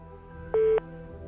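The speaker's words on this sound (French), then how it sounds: "Lorsque l'on appelle sur le téléphone de la maison" A home landline telephone gives a single short electronic tone, one steady beep lasting about a quarter second, set against a faint humming background with no talking.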